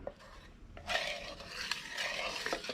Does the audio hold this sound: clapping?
no